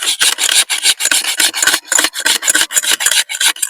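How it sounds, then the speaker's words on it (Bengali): An aluminium bowl scrubbed by hand with crushed eggshell, giving a loud, steady run of gritty rasping strokes in quick rhythmic pulses, close up with no talking. "এইভাবে শুধু হাত দিয়ে ঘষলেই সুন্দর পরিষ্কার হয়ে যাবে।"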